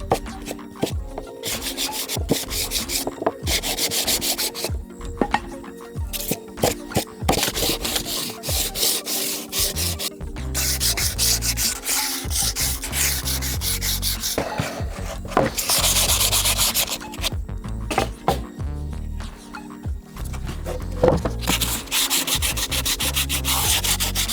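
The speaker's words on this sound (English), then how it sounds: "we're going to use this block and hand sand these and keep it going" Wood being hand sanded with a sanding block during a desk build, heard as steady, loud rubbing strokes that repeat in a continuous back-and-forth rhythm with no voices.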